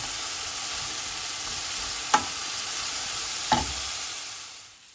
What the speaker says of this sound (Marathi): आतां हें सगळें बरे भाशेन मिक्स करुया.